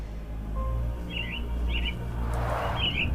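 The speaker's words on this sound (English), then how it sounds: "Minor birds, if I'm not mistaken. Beautiful creatures. Sad that they're caged here." Caged mynah birds in the Sherlock Holmes game give three short, bright chirping calls spaced about a second apart over a low, steady ambient hum.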